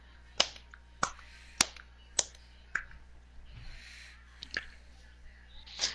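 Sharp hand claps in a video game, about seven loud single claps spaced roughly half a second apart, each crisp and close, with some faint clicky background noise between them.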